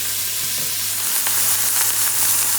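Lion's mane mushrooms fry and brown in a pan, giving a steady close sizzle with light crackles throughout and a low electrical hum underneath.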